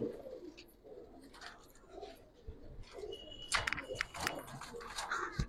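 Giribaz and colored pigeons coo softly at close range in a pigeon seller's loft, low throaty calls repeating amid light rustling and brief wing flutters toward the end.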